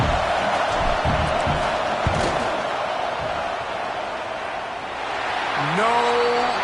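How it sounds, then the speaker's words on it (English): Stadium crowd roar from a football video game during a field goal attempt, a steady loud wash of voices throughout, dipping slightly before swelling again at the end, with a brief tonal whistle-like sweep near the close. "This crowd trying to do its part to get inside the kicker's head."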